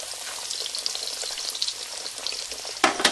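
Pork schnitzel pieces frying in a pan, a continuous close crackling sizzle with a sharper burst of spitting toward the end, no voices.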